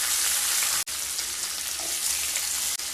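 Chopped onions fry with black cumin seeds in hot oil for tilapia tel jhal, a dense, bright, continuous sizzle cut by two brief near-silent dropouts, with no talking.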